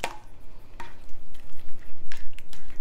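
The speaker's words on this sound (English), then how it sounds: "I'm just going to take a spoon and I'm going to mix it all up, just stirring it around" A spoon stirs a copper pennies mixture, giving a run of wet, squishy scrapes and soft clinks that repeat in a loose rhythm, close and fairly loud, with no talk.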